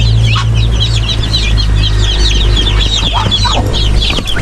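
A flock of young ducks being moved to a new pen on a rural Philippine farm keeps up dense, overlapping high chirps and calls, close and continuous, over a steady low hum.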